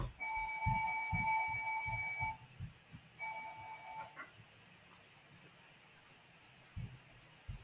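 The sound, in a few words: alarm clock ringing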